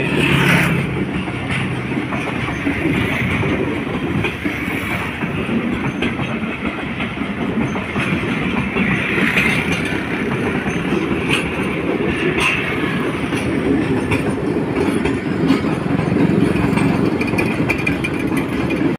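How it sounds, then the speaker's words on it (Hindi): A down passenger train passes along a railway line in Karachi, a loud, steady rumble with rhythmic clickety-clack of wheels over rail joints lasting throughout, close by and without talk. "एक डाउन ट्रेन है जो ट्रिक रोड कराची से कैंट स्टेशन कराची की जानी जा रही है"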